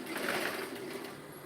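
A sewing machine runs steadily, stitching and backstitching a seam on a peplum blouse with a fast, even mechanical whirr, close and continuous, with no voices.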